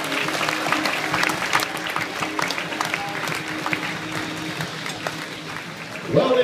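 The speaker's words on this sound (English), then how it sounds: "Round of applause for your food and beverage manager, Mark." An audience aboard a Celebrity cruise ship applauds for a while, a steady patter of clapping from a crowd that gradually fades, with a voice speaking over it near the end.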